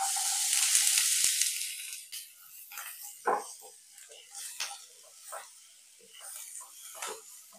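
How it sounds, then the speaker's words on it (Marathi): Chopped onion starts hissing loudly as it hits a little hot oil in a pan for a Kolhapuri rassa curry, then settles into a quieter crackling sizzle broken by scattered clinks and stirring sounds. "थोडंसं तेल घालते. कांदा परतून घेऊया."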